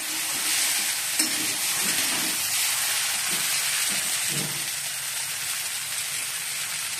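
Soybean and potato curry sizzling and frying in a pan, with a steady bright hiss and occasional scraping stirs close up.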